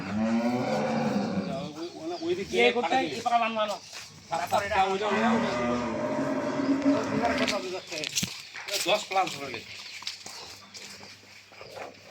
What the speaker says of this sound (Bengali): বিগ সাইজের গরু একটা